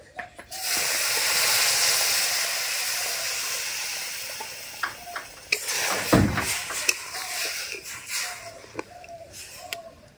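Water goes into semolina being lightly roasted in ghee in a home kitchen, setting off a loud sizzling hiss that slowly fades, followed by scattered clinks and scraping near the pan.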